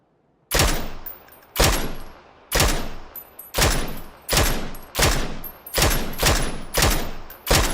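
Gunfire in Valorant rings out as about ten loud, sharp shots spaced roughly evenly about a second apart, each with a ringing tail and no talk over it.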